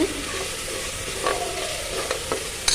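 Ginger garlic paste stir-fried in a pan for chicken biryani, giving a steady close sizzle with a few sharp spoon scrapes and clinks against the pan.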